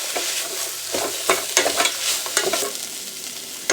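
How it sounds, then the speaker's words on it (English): Dry crushed thyme leaves being stirred into a frying pot of food, with scraping stirs and a steady sizzle running under them, the spoon strokes coming in a loose, uneven rhythm, close and fairly loud with no talking. "Going to give it a stir."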